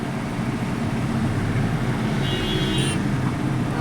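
Road traffic at a busy junction on a rain-flooded road, a continuous close roar of cars and heavier vehicles passing through standing water, steady and loud throughout.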